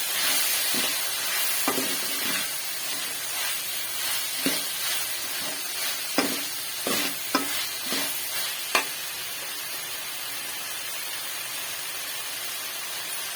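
Meal maker soy chunks sautéing in a pan with onion and tomato, giving a steady soft sizzle broken by intermittent scraping and stirring clatter, close and moderately quiet.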